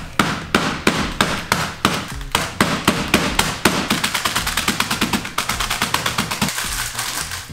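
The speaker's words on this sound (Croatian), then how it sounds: "Prvi korak, tuć s ovim čekićem po ovoj vrećici da smrvimo keksiće, ali da ne potrgamo vrećicu." A hammer pounds biscuits inside a plastic bag, a long run of sharp, loud, close thuds, spaced at first and then quickening into a rapid, steady drumming of blows with no talk.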